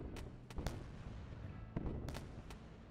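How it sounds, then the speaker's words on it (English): Missiles fired from a spaceship in the Wayward Terran Frontier video game, a series of sharp, separate launch bangs at irregular intervals over a low, quiet background rumble. "I forgot you could totally shoot missiles out of the space"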